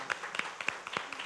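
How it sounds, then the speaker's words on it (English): Brief audience applause at a school board meeting: a short burst of moderate clapping from a small group, fairly quiet and even throughout. "Let's give her a round of applause."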